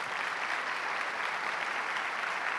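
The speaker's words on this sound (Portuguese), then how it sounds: "Vamos aplaudir a Deus pela vida do Luciano?" A congregation at a worship service applauds God for someone's life, a dense, even roar of clapping that holds steady from start to finish with no speech over it.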